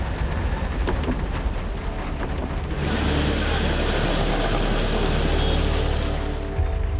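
Heavy monsoon rain in Goregaon, Mumbai, pours steadily as a dense, continuous hiss that swells louder partway through, with a low rumble underneath.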